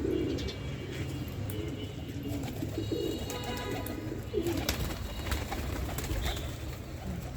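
Pigeons coo in soft, repeated low calls over a steady background hum, with a few faint chirps mixed in.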